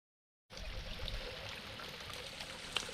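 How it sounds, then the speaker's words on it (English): Hillabee Falls on the Pinhoti Trail runs low, a small trickling waterfall giving a steady, soft rush of flowing water that starts abruptly and continues evenly, with no voices. "This is Hillabee Falls."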